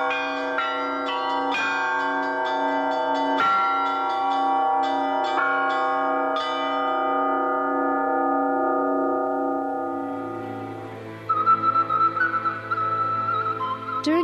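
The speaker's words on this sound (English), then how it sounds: "The art of bell ringing brings together the most well-known ringers from all the world." Church bells in Moldova ringing in overlapping peals, clear resonant strokes with long ringing tails, followed by a change to a different, brighter set of bells near the end.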